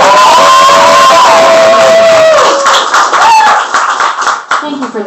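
A house-party crowd erupts in loud cheering, yelling and clapping right up close for about two seconds, then scattered claps and voices trail off as a performer talks.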